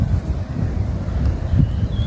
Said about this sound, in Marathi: पाऊस जोरात लागतोय आणि वारा पण खूप आहे डोंगरावरती